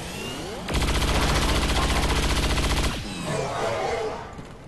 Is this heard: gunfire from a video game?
yes